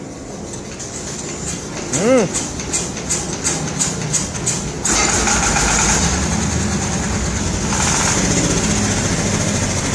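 A repaired generator engine cranks and starts, then settles into a loud, steady, close running drone.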